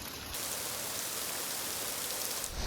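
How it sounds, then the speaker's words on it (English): Heavy rain mixed with hail pours down steadily beside a Colorado river, a dense unbroken hiss close by with no voices, easing slightly in the last moment. "A most unpleasant surprise in the form of crazy rain and hail has come my way"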